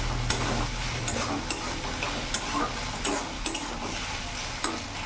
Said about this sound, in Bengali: এবার ভালো করে মিশিয়ে আমি কিছুক্ষণ কষিয়ে নেব।